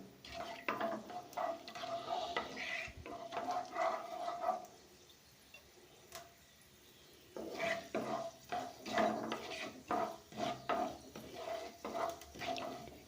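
Fenugreek seeds fry and are stirred in a pan for a tomato curry, giving a quiet sizzle with repeated scraping strokes, a pause in the middle, then more rhythmic stirring.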